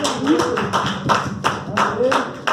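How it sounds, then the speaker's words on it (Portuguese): Steady rhythmic clapping from a church congregation praising Jesus, the beats even and fairly close, mixed with voices calling out under and between the claps. "Aplauda o Senhor Jesus, meus irmãos"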